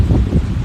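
Wind blows on a beach as dense low buffeting rumble across the microphone, loud and continuous with no speech.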